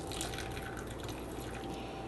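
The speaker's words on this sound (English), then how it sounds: "And I'm just going to drain the rest." Liquid from canned chickpeas drains steadily into a sink as a faint, continuous trickling splash, with no voices.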